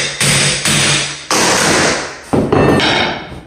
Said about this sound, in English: Now we're gonna lift this piece of plywood up and see what we got out here.